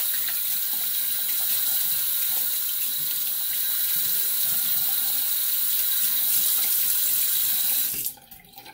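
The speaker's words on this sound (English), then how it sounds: "We'll just rinse everything off and then put my aftershave on." Tap water runs steadily into a bathroom sink while shaving soap is rinsed off after a shave, a constant close hiss and splash that stops abruptly near the end.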